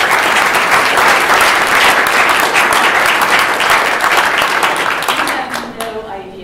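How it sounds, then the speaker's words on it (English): An audience at a panel lecture on cyberbullying claps loudly and steadily for several seconds, then the applause thins and trails off near the end. "all deserve a huge round of applause"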